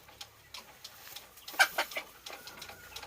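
Soft, scattered clucks from a Boston Roundhead gamecock rooster in a backyard pen, a few short calls spread across a few seconds with one brief louder burst in the middle, fairly quiet overall.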